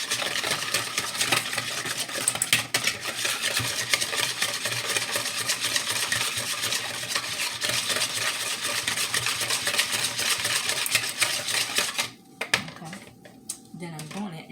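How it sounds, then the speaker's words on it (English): A whisk beats oil dressing for a spinach pasta salad in a bowl, giving a steady, fast clinking and scraping rhythm up close that runs almost continuously before stopping near the end. "And I'm gonna give it a whisk."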